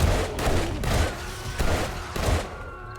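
Base defense turrets firing in the survival game 7 Days to Die, a series of heavy thudding shots repeating every half second or so, fairly loud and slightly distant.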